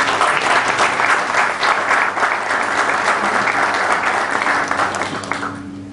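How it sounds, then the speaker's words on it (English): Audience at a Rotary club induction event gives a big round of applause, dense and loud from the start, tapering off near the end as a low hum emerges. "Mayank and his team deserve a big round of applause"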